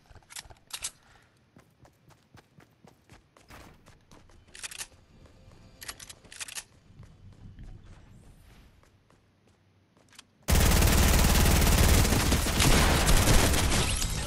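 Gunfire in a video game crackles in scattered sharp bursts, then gives way to a loud, sustained roar of dense shooting near the end.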